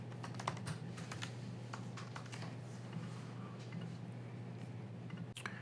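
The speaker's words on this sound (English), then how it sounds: "We'll type in our username and password." Keys clatter on a computer keyboard as a username and password are typed, a quiet, irregular run of taps over a low steady hum.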